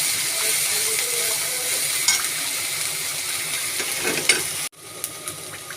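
Ginger-garlic paste and spices sizzle steadily in a pan for a prawn malai curry, with occasional stirring scrapes, then the frying drops away sharply near the end.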